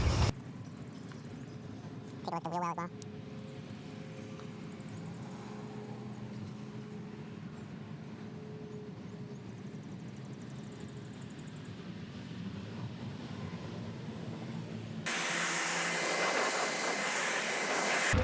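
A pressure washer rinses a car wheel: a faint, steady motor drone runs for a long stretch, then a loud, hissing burst of spray erupts near the end.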